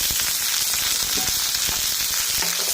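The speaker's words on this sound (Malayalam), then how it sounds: "കറിവേപ്പില വറ്റൻമുളക് ഇട്ട് മൊരിച്ച് കറിയിലേക്ക് ചേർത്ത് കൊടുക്കാം" Curry leaves and dried red chillies crackle in hot oil for a tempering, with a loud, dense, continuous sizzle and small pops heard close up and without talk.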